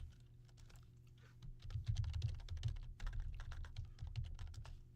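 Fingers type on a computer keyboard in a run of quick, close clicks that grow louder and busier midway, with brief pauses between bursts and no voices over it.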